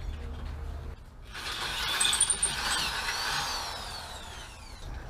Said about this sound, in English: So Pete's got this drill.